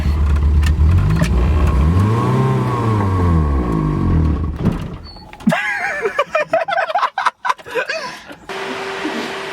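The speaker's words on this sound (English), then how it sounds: "You're gonna have to rev bomb the shit out of it." An abandoned Renault engine, started after sitting nine years, is revved in rising and falling sweeps for several seconds, then gives way to uneven clunks, rattles and mechanical knocks at close range.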